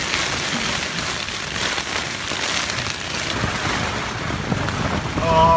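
Strong storm wind roars steadily across a flood plain camp under canvas in a hail storm, a broad, loud rushing gust that swells near the end.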